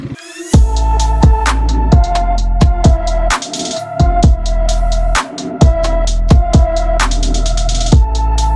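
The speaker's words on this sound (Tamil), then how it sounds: "நம்ம இந்த வண்டியோட எக்ஸாஸ்ட் கேட்டுருவோம் எப்படி இருக்குன்ட்டு" A modified KTM Duke 250 motorcycle exhaust being blipped: loud, close revs that rise and fall repeatedly with sharp throttle stabs over a steady idle, no talk.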